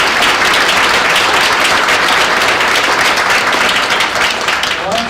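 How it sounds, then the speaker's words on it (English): Sustained, loud audience applause fills the room at a Wipro HPS International Women's Day event, dense clapping holding steady throughout with no talk over it. "why don't you keep the applause going a little bit more?"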